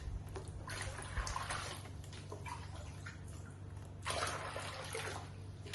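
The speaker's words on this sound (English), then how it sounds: "fill the bowl with water like this." Water runs from an indoor tap into a bowl being filled to water a houseplant from the bottom, a soft, continuous splashing trickle that swells and eases, quiet and close, with a low hum beneath.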